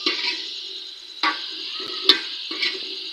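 A spoon stirs salt and chili into a curry cooking over a wood-fired village stove, giving a few sharp scraping knocks spaced through a soft background sizzle.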